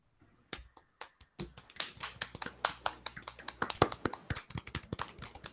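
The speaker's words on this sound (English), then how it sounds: "Soft clap." A single person's soft, light hand claps, starting sparse and then settling into a quick, uneven run of close, quiet claps with no talking.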